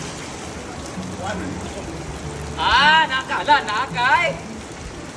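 Heavy typhoon rain pours steadily as a broadband wash throughout, with a voice calling out and brief talk over it in the second half.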